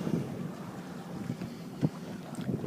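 A sailboat tacking back and forth in light air of about 6 to 7 knots: steady low wind rumble and water wash around the hull, with a couple of soft knocks, fairly quiet throughout.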